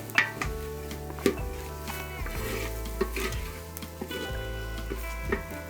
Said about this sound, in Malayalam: നന്നായിട്ട് ഇളക്കി കൊടുത്തു നമുക്കിതൊന്ന് മസാലകളൊക്കെ ഒന്ന് സൂപ്പറായിട്ട് ചൂടാക്കിയിട്ട്